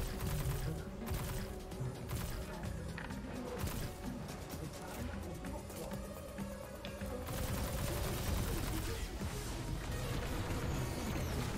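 Rapid machine-gun fire in Destiny 2, a dense continuous stream of shots with impacts and crashes throughout, fairly quiet in the mix, with a voice talking over parts of it.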